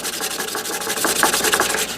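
Rhythmic, gritty scraping of sandpaper rubbed back and forth against the edges of a stone bow drill bearing block, close and steady.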